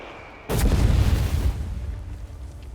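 Mortar artillery fire in Company of Heroes 3, one heavy boom hitting suddenly and rolling into a long rumbling decay that stays loud through the rest of the moment.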